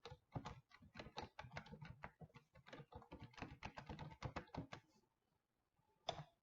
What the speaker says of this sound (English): I'll type in new money accounts